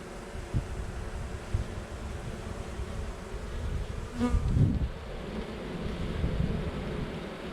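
Dense, loud buzzing of a crowd of bees on a swarm trap filling the air nearby, swelling briefly midway, with no speech.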